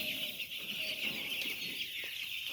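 Broiler chickens on a poultry farm cluck and murmur steadily as a flock, a dense continuous chorus with a bright high hiss of ambient noise, no talking.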